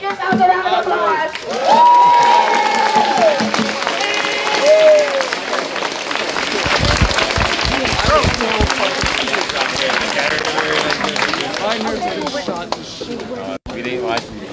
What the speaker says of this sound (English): make yourselves a round of applause